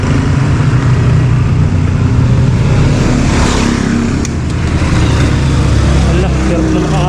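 A car engine labors uphill at around 3,000 RPM with little speed, a loud, steady strained drone close by, with someone talking over it.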